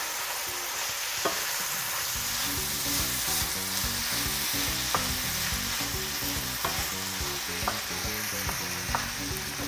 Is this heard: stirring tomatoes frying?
yes